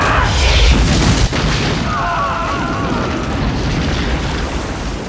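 A cartoon rodent bomb explodes inside a house hole with a loud, sustained rumbling boom that fills the whole clip, dense and close, with a faint whistling tone partway through.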